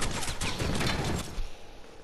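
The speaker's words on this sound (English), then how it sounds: "This mounted turret is like so OP." A mounted turret in Fortnite firing a rapid burst of shots, loud and close for about a second and a half before cutting off into a quieter tail.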